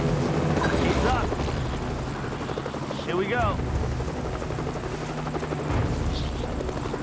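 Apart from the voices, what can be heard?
helicopter hovering low over water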